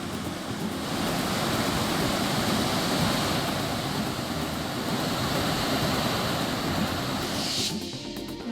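Water discharging from the Kasarsai dam in Maval, Pimpri Chinchwad, after ample rainfall: a loud, steady, broadband roar that continues unbroken throughout.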